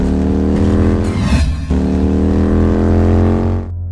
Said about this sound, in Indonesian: Kita naik motor aku aja.